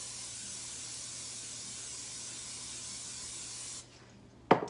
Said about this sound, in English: I'm going to try using non-stick cooking spray here